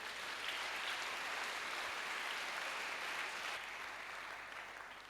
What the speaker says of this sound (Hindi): ऐसे वफादार खुदा के लिए अब जोरदार तालियां बजाइए